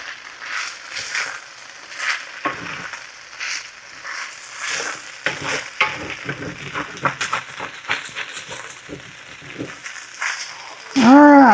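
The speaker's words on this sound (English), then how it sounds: "Alright, I'm going to get all this sauteed up here" Steak and peppers sauté in a pan with crackling, uneven sizzles and occasional stirring clicks, followed by a short burst of voice at the end.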